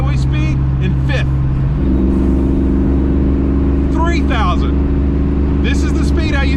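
A 30-year-old Foxbody Mustang engine drones steadily while cruising at highway speed in fifth gear, a loud, constant low hum with a slight step up in pitch partway through, heard from inside the car under someone talking.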